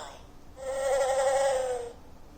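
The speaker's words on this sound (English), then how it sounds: "The dragonfly zips and zooms." A dragonfly buzzing sound effect from a children's button sound book: a steady, whining insect drone that swells in, holds for over a second, then cuts off, alone and fairly close.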